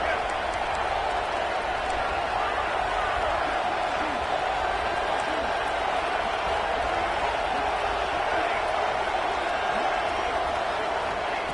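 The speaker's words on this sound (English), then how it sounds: "Listen to the crowd energy here in the early going." Stadium crowd at a football game, a steady dense roar that holds at the same level throughout, with no clear peaks of cheering.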